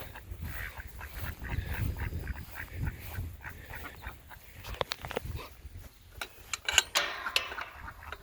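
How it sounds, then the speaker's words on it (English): Ducks quacking in a backyard orchard among young blueberry bushes, with scattered short calls at close to middle distance over a faint outdoor background, growing busier and louder toward the end. "Hi, ducks."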